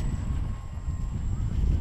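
An Archer 2 RC plane drones overhead as it flies back toward the field, its faint propeller buzz mixed with wind rumble at the microphone; a voice can be heard briefly.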